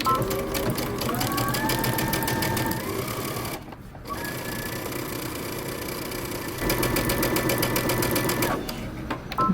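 A sewing machine stitches the front pieces of a shirt dress, its fast, steady motor whir running close and loud in long bursts, with a brief pause partway through.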